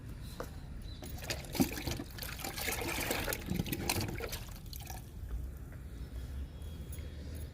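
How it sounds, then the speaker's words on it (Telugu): Liquid fertilizer poured straight from a container onto small tubs of potted maroon chrysanthemum plants, a steady trickling and splashing of liquid lasting several seconds, close and continuous, with outdoor background noise and no talk. "ఇచ్చేద్దాము లిక్విడ్ని"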